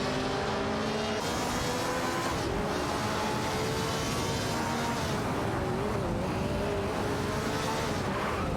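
Engines of Lotus 49 and BRM 83 race cars in an AI-driven racing video game whine continuously, with shifting pitch as the cars battle for position. A dense, loud blend of several engines plays without any voices.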